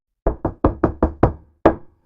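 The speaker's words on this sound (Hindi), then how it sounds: "एक दिन राधा आराम कर रही थी, तभी कोई दरवाजे पर दस्तक देता है।" Seven sharp knocks on a door, close and loud, in a quick uneven run of six and then a single final rap after a short pause.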